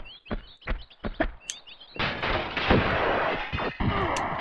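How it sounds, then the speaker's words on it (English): Shotgun fire in the video game Tomb Raider 2, a rapid series of sharp booming blasts with metallic clicks, followed by a louder sustained crash and rumbling impacts. "I'm gonna take out my shotgun because I want to dispatch of some guy that's gonna start shooting at me as soon as I break through this window."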